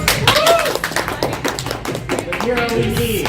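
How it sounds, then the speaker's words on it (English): A small group claps in a loose, uneven rhythm of sharp, close claps, while excited voices call out and talk over them. "give her a round of applause"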